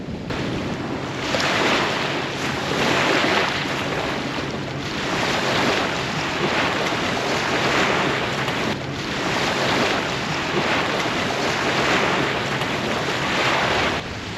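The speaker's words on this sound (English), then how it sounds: "Good grief, it is so windy out here and cold." Strong wind gusts roar by the water at the Toronto Islands on a cold day, with broadband surf-like rushing that swells and eases in waves across the whole stretch, loud and close, with no one speaking.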